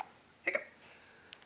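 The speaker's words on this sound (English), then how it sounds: "Got the hiccups." A ten-week-old puppy lets out a short double hiccup, close and soft, followed by a fainter single one a moment later in a quiet room.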